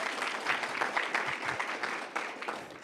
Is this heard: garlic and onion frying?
no